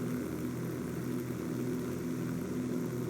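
The propeller engines of a Catalina seaplane in a video game give a continuous, steady droning hum with a throbbing low tone, evenly loud throughout and without speech.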